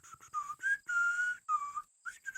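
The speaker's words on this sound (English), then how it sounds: "and he's whistling a tune." A person whistles a tune in short melodic phrases separated by brief pauses, clear and close in an otherwise quiet setting.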